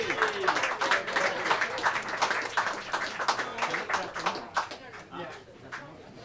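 An audience applauds a saxophone player at a jazz quartet concert, brisk clapping that swells and then thins out, with a voice talking over the tail end.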